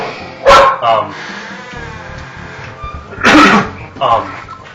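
A pet dog named Zoe barks indoors, two loud sharp outbursts each followed by a softer yip, with a person talking quietly in between.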